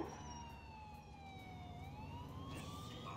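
A wailing ambulance siren from the video game GTA 4 sweeps slowly down and back up in pitch, loud and steady over a continuous rumbling engine bed, with no talking.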